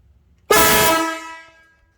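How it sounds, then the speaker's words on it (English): A motorcycle's aftermarket MotoHorn and its original horn blare together in one loud, close blast of about a second, then fade quickly. "Now you can hear what it sounds like with both of them"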